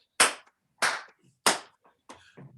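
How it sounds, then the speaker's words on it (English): Sharp hand claps and slaps from a Hungarian verbunk dance routine land in a rhythmic sequence, three crisp strikes evenly spaced, then a softer, smeared slap at the end, close and isolated against silence. "Clap, clap, slap, step."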